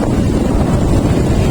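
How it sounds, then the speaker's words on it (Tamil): Rushing river water roars as a steady, loud, broadband wash, mixed with heavy wind buffeting the microphone, with no voices. "தண்ணி அப்படியே ஆர்ப்பரிச்சு வர்ற மாதிரி இருக்குது."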